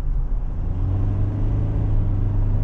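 A 2024 GWM Cannon Alpha with the 2.4 diesel is floored, its engine giving a steady low rumble and drone inside the cabin that builds slightly over a few seconds.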